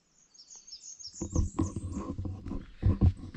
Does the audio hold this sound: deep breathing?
no